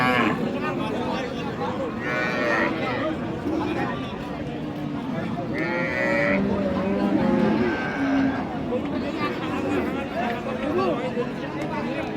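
Cows with calves lowing at a crowded rural cattle market, giving repeated moos near and far amid steady crowd chatter and someone talking.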